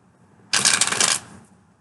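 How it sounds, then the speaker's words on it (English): A quick riffle of tarot cards, a dense rattling burst lasting under a second, close and fairly loud against a quiet background. "Quick shuffles this time."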